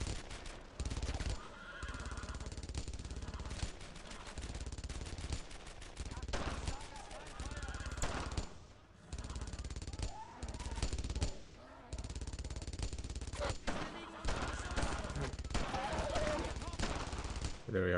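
Sustained gunfire in the World War II shooter Brothers in Arms: Earned in Blood, with continuous bursts of rapid automatic fire and scattered shots filling the whole stretch at steady loudness, briefly dipping around the middle; a horse whinny also surfaces amid the battle.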